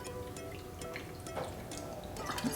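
Vodka is poured into a cup, giving soft, faint liquid trickling and dripping sounds over a quiet indoor background.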